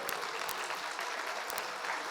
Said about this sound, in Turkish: Kendilerini alkışlarınızla sahneye davet edelim